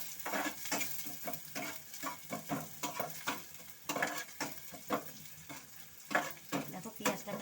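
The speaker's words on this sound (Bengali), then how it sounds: "দেখো পেঁয়াজটা প্রায় ভাজা ভাজা হয়ে গেছে।" Chopped onions fry and sizzle in a pan for a thin prawn curry with potato and snake gourd, with a steady crackle broken by repeated scraping stirs of a spatula, close by and with no talk.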